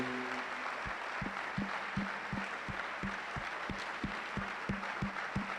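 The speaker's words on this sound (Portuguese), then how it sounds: "quem veio ontem, de todo o coração, desse o maior aplauso a Jesus" Congregation at a church service applauding in praise, a broad wash of clapping with a steady thumping beat underneath, heard from a distance and fairly quiet.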